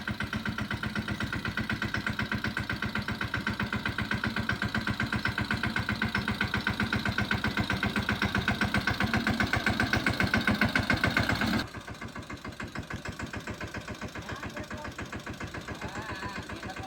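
A tractor engine chugs steadily in a fast even knock while sowing among guava trees, loud and close throughout, dropping slightly in level partway through.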